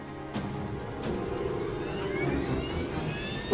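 The jet engines of a KLM Boeing 747 airliner spool up for takeoff in a dramatized 1977 Tenerife scene, a rising whine and roar that builds steadily in the background, heard from inside the aircraft.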